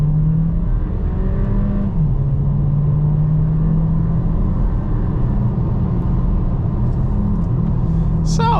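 A 2024 VW Taos SEL engine pulls hard under full throttle, a steady, loud droning rumble heard from inside the cabin with a rising pitch and a brief shift dip.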